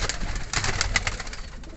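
Pigeons kept for sale in a loft coo and rustle close by, low throaty calls repeating in quick pulses for nearly two seconds, fairly loud, with no speech.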